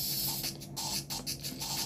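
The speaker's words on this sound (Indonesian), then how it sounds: "Terhenti karena nyeri, semprotkan Salonpas Jet Spray." A can of Salonpas Jet Spray pain relief spray hisses in several short bursts up close, each spurt cutting off sharply before the next one.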